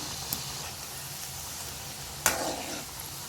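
Small wheat biscuit dough pieces frying in hot oil give a steady, quiet sizzle with two brief brighter crackles, one near the start and a louder one late on; no talk.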